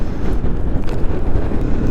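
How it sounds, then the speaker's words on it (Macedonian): Cold wind in the snowy Alps at Grossglockner buffets the microphone, a loud, continuous low roar with gusty fluctuations and no voices. "Ладен ветер дува, сепак Алпите се"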